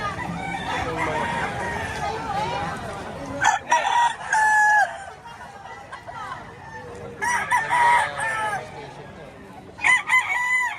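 A rooster crows several times up close at a market in Lipa, Batangas, loud drawn-out calls with clucking between them, over a busy background with people talking.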